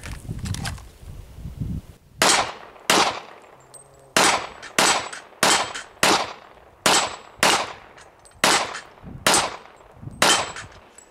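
.40 caliber handgun fired from a holster at steel plates, with about ten sharp shots in quick succession after a brief pause, each crack ringing with a metallic clang from the struck targets.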